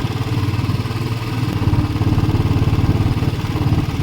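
Motorcycle engine chugging steadily while ridden on a road trip in India, a close, rhythmic mid-pitched putter with a faint clatter throughout.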